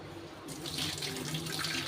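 Hot water that has stood for ten minutes in a rusty iron pan is poured out, a close, steady splashing rush that begins abruptly and runs without talk.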